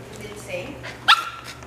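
A dog that has been left alone for hours gives a single short, sharp bark near the middle, heard close by over a steady room hum and background noise.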